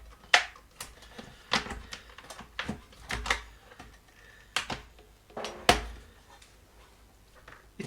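A newer Surface Pro keyboard is attached and handled, giving a string of irregular sharp clicks, taps and clacks at close range, spaced over several seconds with quiet gaps between them.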